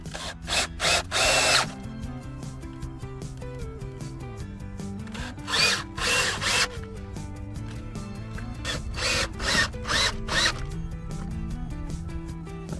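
A power drill drives and tightens a wall anchor in a stone wall: bursts of whirring and grinding in several short runs with pauses between, close and fairly loud, no talking.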